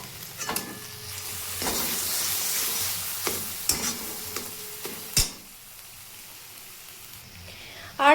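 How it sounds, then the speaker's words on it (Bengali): Ground paste hits a pan of nearly cooked spice masala for an egg lababdar curry, with a steady close sizzle swelling and easing, punctuated by scraping stir clicks and a sharp clack near the end. "এখন আমি এর মধ্যে এই পেস্টটা দিয়ে দিচ্ছি।"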